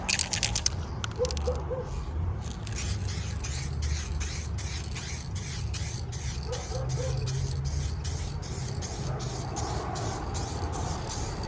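A spray gun lays a glossy coat of paint on a car in a DIY job, giving a steady close hiss with rapid rhythmic pulses of spray throughout and no talking.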